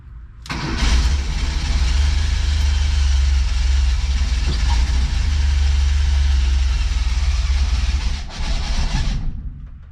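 A 1977 bus engine, freshly adjusted for idle mixture and idle speed, cranks and catches, then idles loud and close with a steady low rumble for several seconds before slightly dropping.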